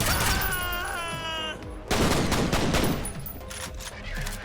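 Gunfire in the first-person shooter game F.E.A.R., with rapid automatic bursts and a heavy volley of shots, loud and dense, mixed with game effects and tonal whines.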